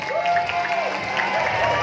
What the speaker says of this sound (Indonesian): Tepuk tangan buat Anda semua yang keras.